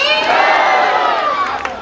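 A devotee crowd at the Rajdevi temple in Janakpur raises a loud collective cheer and chant, many voices shouting together in a brief, bright burst.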